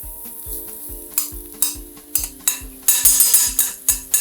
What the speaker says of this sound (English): Stir this up a little bit with the tongs and just right onto the